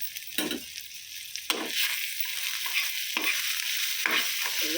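Food fries in a pan on a mini stove with a constant sizzle as it is stirred with pepper and poppy seed powder, several scraping strokes cutting through the hiss at close range.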